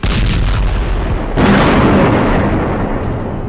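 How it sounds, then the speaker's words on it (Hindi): Loud, close artillery fire and bomb explosions in Gaza during an Israeli bombardment, with a heavy blast near the start and a second one about a second and a half in, each leaving a long rumbling roar, with no talk. "जिस वक्त गाजा की गली गली में इजराइल के बम गिर रहे हैं,"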